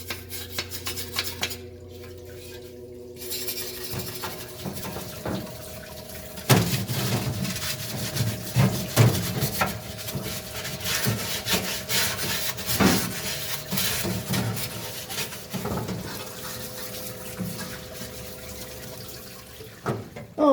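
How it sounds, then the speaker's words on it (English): A small wire brush scrubs surface rust off a metal part of a Mercedes-Benz W116 300SD, giving repeated close raspy scraping strokes in an uneven rhythm with no talking. "I have a little wire brush, and I'll knock off some of the surface rust"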